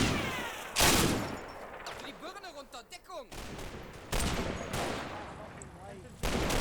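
Gunfire from a night battle in the Combat Mission video game, set during Operation Epsom with attacking Panzer Grenadiers: sharp shots and machine-gun bursts crack irregularly, some loud and near, others fainter with whistling rounds between.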